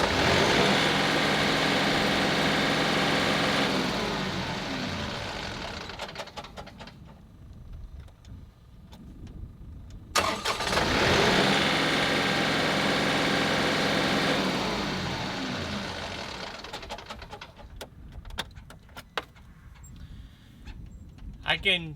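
A John Deere tractor engine cranks and starts, then idles as a steady, fairly loud mechanical drone. It cuts out around the middle, then starts again and runs before dying away near the end.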